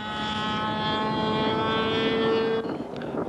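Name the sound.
model propeller plane engine, balsa wood Blue Super Sportster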